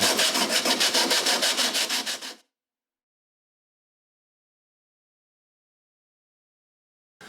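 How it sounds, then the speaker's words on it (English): Rapid, steady back-and-forth rasping of abrasive against wood, loud and close for about two seconds, then silence. "I just need to go ahead and sand this down to the same radius."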